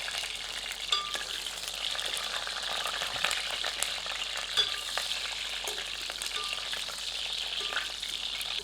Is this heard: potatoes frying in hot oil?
yes